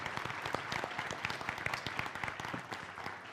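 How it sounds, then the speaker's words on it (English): An audience claps for a panel at an e-learning event, a fairly faint but steady patter of many hands with distinct individual claps, continuing without a break. "can we get another round of applause for a beautiful panel?"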